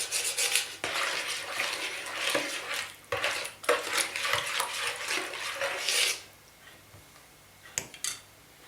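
A spoon stirs sugar, salt and dry yeast in a bowl, scraping and clinking steadily for about six seconds before stopping, followed by a couple of light taps.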